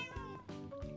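A cat meowing in Minecraft: two or three short, clear, close meows in quick succession, moderately quiet, with no talk.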